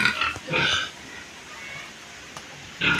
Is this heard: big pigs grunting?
yes